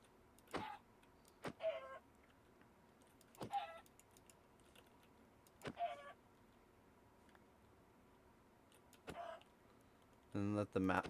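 Minecraft chickens cluck in a game, short sparse bursts scattered every couple of seconds with a louder flurry at the end, faint and thin against a quiet background.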